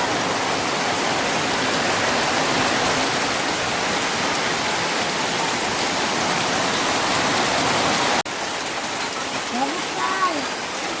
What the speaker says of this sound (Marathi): खूप मोठा पाऊस येलो.